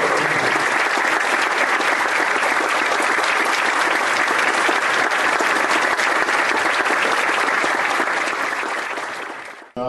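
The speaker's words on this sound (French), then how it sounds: "frère Dario, ainsi que la sœur Béatrice, un applaudissement." Congregation at a Bible study applauding, a loud, dense and continuous ovation that holds steady for several seconds before fading at the end.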